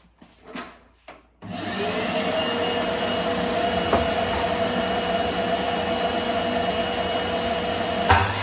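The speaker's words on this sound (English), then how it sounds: "I'll turn on the hoover this time." A hoover starts in a garden studio under construction after a couple of faint knocks, then holds a loud, steady whining roar with a constant pitch for several seconds, no talking.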